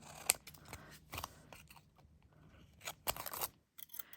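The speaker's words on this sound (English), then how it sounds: "amazing how quickly the scissors get full of glue" Several crisp snips and crunchy cuts of scissors slicing through sticky metal tape, close up, irregularly spaced with a sticky scraping texture between them.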